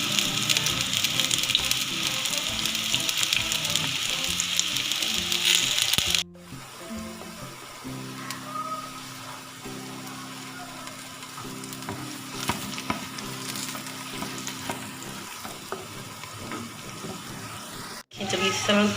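Steady sizzling of meat (loqi gosht) frying in a pan until golden brown, loud at first, then a softer crackle with occasional stirring, continuing with no voices.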